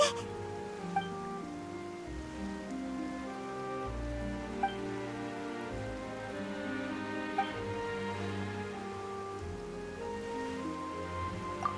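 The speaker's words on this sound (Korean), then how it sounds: "갑자기 비가 오네" Rain falls steadily under soft layered background music in an animated cutscene, with occasional faint drips and no voices.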